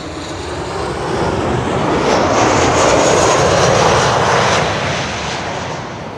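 KLM passenger jet arriving at Schiphol from Stockholm, passing close overhead as a loud broadband engine roar that builds, peaks mid-pass and slowly fades, with no voices.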